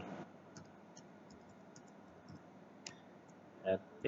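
A computer mouse clicking while signing into a school email account, a few faint, sharp single clicks spaced apart, with a voice briefly heard near the end.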